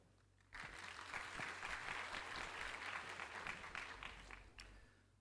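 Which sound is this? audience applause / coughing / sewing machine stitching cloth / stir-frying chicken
audience applause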